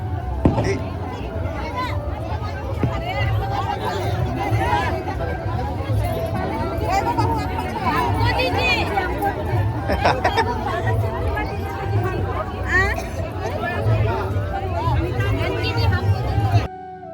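Dense crowd chatter at a riverside ghat during the Chhath Puja festival, many overlapping voices forming a steady, loud hubbub throughout with no single voice standing out.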